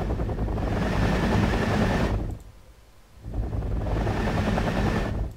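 Helicopters in the military strategy video game Wargame: Red Dragon, a loud steady rotor drone that cuts out briefly mid-clip before returning at full strength.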